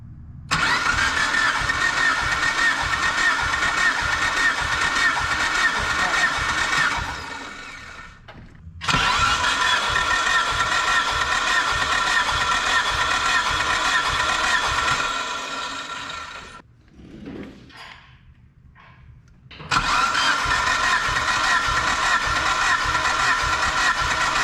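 A Mitsubishi Evo engine cranks during a compression test with a rapid, rhythmic churning in long bursts, broken by brief pauses of near silence between attempts, loud and close.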